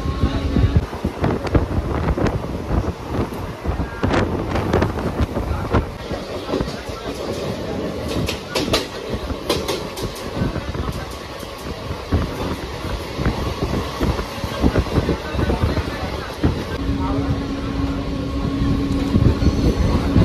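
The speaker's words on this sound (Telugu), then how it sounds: "ట్రైన్ ఇప్పుడే స్టార్ట్ అయింది ఫ్రెండ్స్, ప్లాట్ఫారం నుంచి." A MEMU Express train pulling away from a platform at Khammam and running, a steady broadband rumble with wind buffeting the microphone throughout, a few sharper rattles midway and a faint tonal hum near the end.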